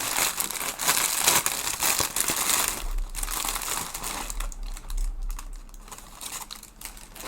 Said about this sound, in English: Get that really crinkly plastic away from us.